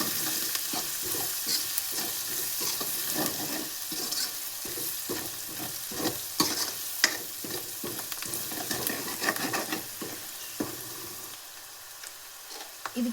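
Spices with turmeric powder fry in a pan for a spinach dish, a constant close sizzle punctuated by repeated scraping strokes of a spatula, easing off near the end.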